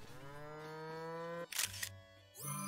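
Camera shutter click from the video game Zelda: Tears of the Kingdom, a short bright snap and whir that breaks a sustained tonal game hum, which then resumes.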